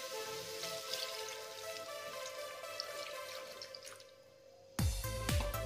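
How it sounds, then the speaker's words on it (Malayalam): Second-extract coconut milk is poured into a fish molee curry of fish and softened tomato, a soft steady liquid trickle that ends in a louder splashing clatter. "തക്കാളി വാടി വന്നിട്ടുണ്ട് നമുക്കിനി രണ്ടാം പാൽ ഒഴിക്കാം"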